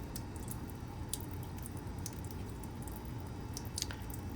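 Sample tubes for a Micromeritics Tristar II Plus BET analyzer are rinsed under running water to clear bubbles, a steady wet wash with squishy gurgles and a few sharp drips, close and continuous without talk.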